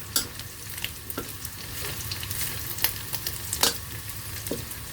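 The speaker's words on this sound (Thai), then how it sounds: "ผัดกุนเชียงให้สุกเลย" Chinese sausage stir-frying in a pan, with a constant close sizzle and scattered scraping clicks of a utensil stirring.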